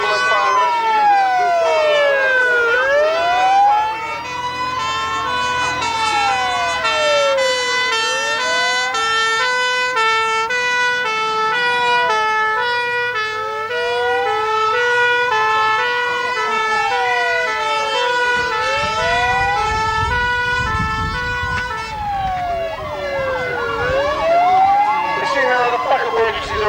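A Buffalo Fire Rescue vehicle enters the arena at a fire engine rally with its siren wailing loudly in repeated rising and falling sweeps alongside a two-tone horn pattern, with engine rumble underneath.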